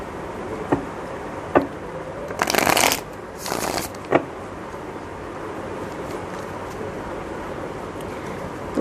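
Tarot cards being shuffled: a few soft isolated taps, then two dense bursts of riffling card shuffles in quick succession, followed by quieter handling and a faint room hush.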